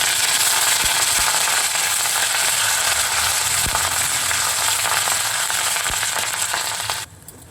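Curry leaves, green chillies and coriander seeds hiss and crackle as they fry in hot oil for tomato chutney, a dense, loud, steady sizzle with occasional pops that cuts off abruptly near the end.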